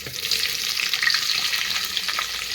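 Cumin and mustard seeds sizzling in hot oil for upma, a steady, close, hissing crackle that runs without pause.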